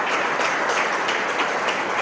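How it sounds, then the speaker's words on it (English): Audience applause at a Times Now IHWS 2014 awards ceremony, honouring a Lifetime Achievement Award in Medical Care: dense, steady clapping from a large crowd, filling the room evenly without breaks. "It has to be a huge, huge applause."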